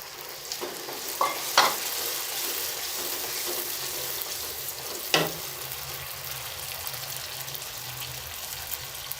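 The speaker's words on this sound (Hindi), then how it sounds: "तकरीबन 1 प्याली चने सुबह बॉयल करके रख लिए थे। अब ये इसमें डाल देंगे।" Boiled chickpeas go into a sizzling chicken curry pan and are stirred in, with a continuous fry hiss broken by a few clattering spoon knocks against the pan.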